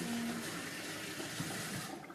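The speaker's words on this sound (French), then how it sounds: "C'est le robinet en fait." A kitchen tap running while hands are washed, a steady broadband rush of water that stays constant and close from start to end.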